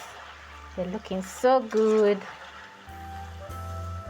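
Thin potato fries sizzle in hot frying oil, a soft steady crackling hiss that stays low under a person speaking briefly.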